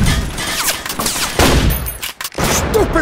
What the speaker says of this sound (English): Hey, stop shooting! Stop shooting!